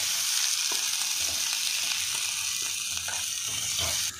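Tomatoes and green chillies sizzle and fry in a hot pan for a Kerala-style fish curry, giving a steady close crackling hiss with a few soft stirring knocks and no talk.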